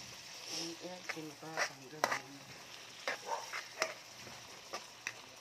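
Shrimp and squid fry in butter and garlic with a soft sizzle and intermittent stirring clinks, heard quietly beneath a person talking.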